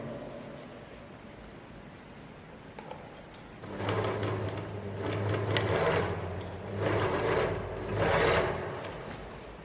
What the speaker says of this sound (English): Making sure that everything is flat as you're overlocking, guys.